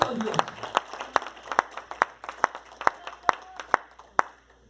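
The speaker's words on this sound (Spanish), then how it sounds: "Dale palmas al Señor" A church congregation claps hands in a steady rhythmic beat, roughly two claps per second, with singing and voices underneath.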